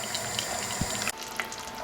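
Tap water runs steadily into a pot of homemade cabbage soup, a close continuous splashing stream that cuts off abruptly near the end, leaving only a faint drip-like residue.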